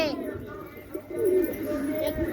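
Soft cooing from a young pigeon repeats in low, throaty phrases, with some voices and rustling around it.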